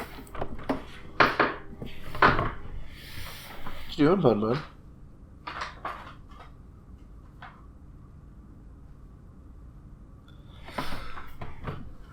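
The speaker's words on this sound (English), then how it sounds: "The bunny was playing on something loud" A pet rabbit knocks around a loud object, giving scattered clattering, hollow knocks near and far, mixed with a person talking.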